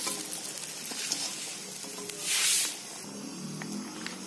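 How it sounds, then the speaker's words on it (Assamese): Garlic frying in oil in a wok that was just used for frying fish. A close sizzle and hiss rises into a loud burst midway, with stirring scrapes around it. "আৰু এয়া গুচাই লোৱা নহৰুখিনি মই মাছ ভজা কেৰাহীখনতে দি দিছোঁ"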